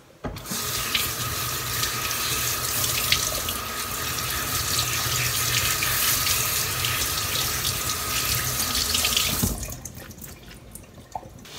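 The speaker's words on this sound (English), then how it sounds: "rinse seven kinds of leaves" Tap water runs steadily into a kitchen sink as seven kinds of leaves for nanakusa-gayu are rinsed underneath, a continuous close splashing rush that stops abruptly near the end, leaving a quiet tail.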